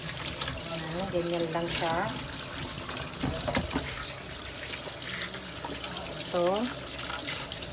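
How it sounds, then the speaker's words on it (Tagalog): Tap water running steadily into a sink while chicken is washed for fried chicken, a continuous close splash with a person speaking over it. "So, hugasan natin siyang maigi."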